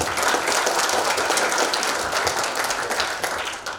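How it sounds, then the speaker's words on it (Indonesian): An audience at a hand-tool launch event applauds for the HL machine, a dense, steady burst of many hands clapping that tapers slightly toward the end. "Tepuk tangan dong buat mesin HL"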